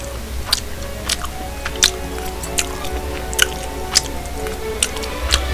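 Close, moist chewing of crisp kimchi at a Korean mukbang meal with cheonggukjang stew and kodari fish, a series of short crunchy bites spaced every second or so over a faint background hum.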